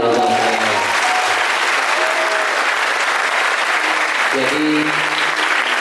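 Steady audience applause at a school motivational seminar fills the space, loud and continuous, with a few voices and brief tonal sounds rising briefly over the clapping.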